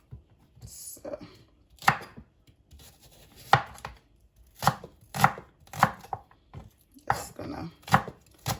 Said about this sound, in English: There are various types of cutting the carrot for your stir fry. I like to thinly slice them to do my stir fry.